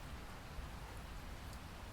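Steady rain falling, a soft even hiss of drops on surfaces with no breaks, fairly faint and with no voices over it.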